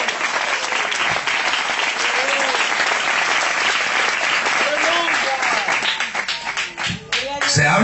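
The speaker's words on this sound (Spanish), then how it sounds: "De repente ese aplauso hacia para él." Applause from a church congregation during a sermon, a dense sustained wash of clapping filling most of the clip before thinning and breaking up near the end, with voices mixed in.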